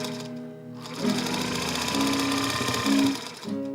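A sewing machine runs a seam in a rapid, steady mechanical chatter, pausing briefly before starting again, close and loud throughout.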